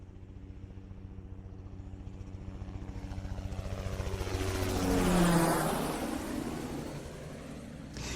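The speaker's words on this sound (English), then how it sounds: "Well, that is the chopper." A helicopter approaches with a rhythmic rotor chop that grows steadily louder and peaks as it passes close overhead, then eases slightly while still loud, with no voices.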